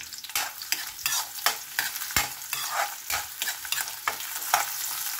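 Ginger sautéed in hot oil before frying fish for a coconut tuna dish, loud close sizzling broken by repeated sharp stirring scrapes and clacks of a utensil against the pan.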